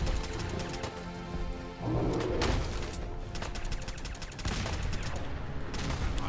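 Rapid bursts of gunfire and explosions from combat in the video game Fallout 4, a dense crackling barrage that continues throughout at moderate loudness with no talking.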